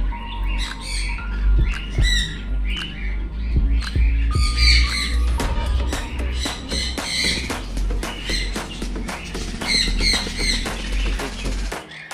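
Parrots at a bird farm squawk repeatedly in a dense, overlapping chorus of harsh, shrill calls. The calls sound fairly close and keep going without a break for the whole stretch, with no talk over them.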